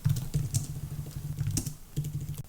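Steady typing on a computer keyboard, entering a SQL query, with quick close clicks and taps in an even flow and a low hum running underneath.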